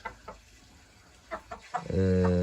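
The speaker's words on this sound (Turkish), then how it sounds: "Çok güzel horozlar var arkadaşlar." Scattered soft calls from young chickens around five to six months old give way to a loud, sustained harmonic crowing-like call from a nearby rooster at the end.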